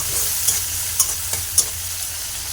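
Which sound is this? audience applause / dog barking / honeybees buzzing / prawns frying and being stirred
prawns frying and being stirred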